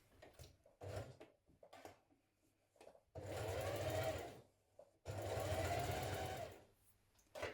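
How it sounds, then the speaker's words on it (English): A domestic sewing machine stitches close to the fabric edge of a tunic-style top, running in two steady bursts of about two seconds each, preceded by short stop-start taps, close and clear with no voices. "we're going to stitch just a couple of millimetres away from this edge"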